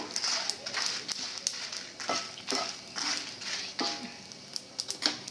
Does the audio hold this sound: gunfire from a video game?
no